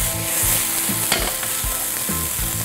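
Onions stir-fried in a pan with scallions and chicken for Japanese fried udon: close, steady sizzle broken by rhythmic scraping strokes of a spatula, with no voices.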